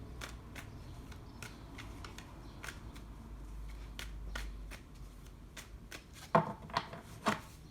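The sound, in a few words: shuffling tarot cards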